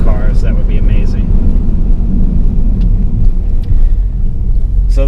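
An Audi 4000 CS Quattro engine rumbles steadily and loudly at close range, a low continuous drone with a few faint higher sounds over it.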